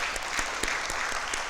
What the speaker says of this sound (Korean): 우리 박수가 아깝지가 않습니다.